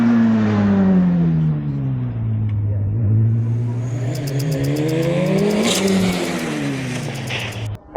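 A race car engine revs hard and climbs in pitch as it accelerates up a hill climb course at Tregrehan, loud and close, with the tone rising and falling through gear changes.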